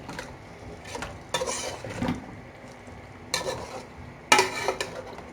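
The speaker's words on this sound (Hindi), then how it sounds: "और उसके बाद इसको थोड़ा भून कर हम इसको बंद कर देंगे।" A spatula scrapes and stirs creamy chicken with green coriander in a hot pan, in irregular bursts of clatter and sizzle with quiet pauses between strokes.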